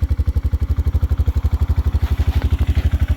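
An old Polaris two-stroke ATV engine, a rough-running 96, putters close and loud in a fast, even, throbbing beat with a slight rise in pitch toward the end.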